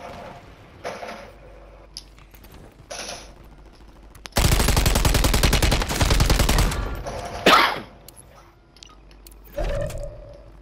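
A sustained burst of automatic gunfire in a first-person shooter video game erupts mid-clip, loud and rapid for about three seconds, framed by quieter game sounds and sporadic clicks before and after.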